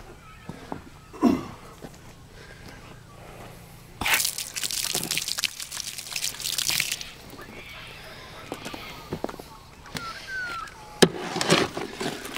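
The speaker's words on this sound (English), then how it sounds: "I'll just add a bit more water." Water pours and gushes into lime being slaked in bursts, with splashy, bubbling stretches between quieter drips and occasional knocks, heard close up.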